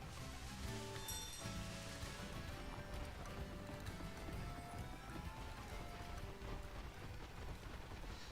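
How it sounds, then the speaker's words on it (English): A herd of bulls thunders past in the video game Pokémon Scarlet. Their hooves clop in a dense, continuous patter, faint beneath game music with a sustained melodic line. "Those are not horses, those are bulls."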